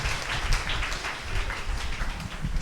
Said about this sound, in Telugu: గట్టిగా చప్పట్లు కొడదామా? గట్టిగా